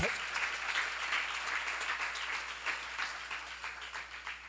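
A church congregation claps together during a seminar sermon, a dense, even burst of many hands heard from some distance, fairly quiet and sustained throughout with a faint low hum beneath.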